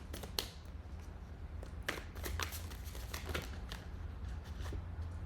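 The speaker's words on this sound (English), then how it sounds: "I think a couple more shuffles and your cards are ready." Tarot cards being shuffled on a table during a reading, a steady papery riffle with sharp flicks and slaps spread over several seconds, fairly quiet and close with a low hum underneath.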